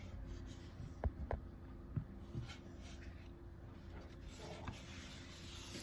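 Faint scratching and tapping of a pen writing on a piece of foam, a few soft clicks and strokes in a quiet room.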